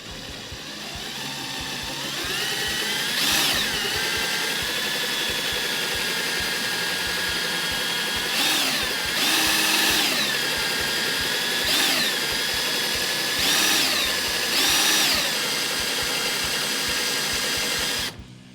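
A power drill whines steadily as it bores into a broken-off bolt on a Land Cruiser, its pitch rising and straining in several bursts under load, loud and close.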